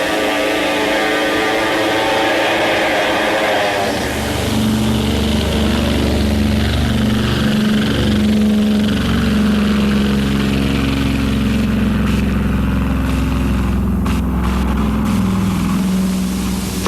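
Several WW2 military aircraft engines run up as planes take off from an island airstrip in the Solomon Islands, a steady loud drone with a rising, shifting pitch throughout.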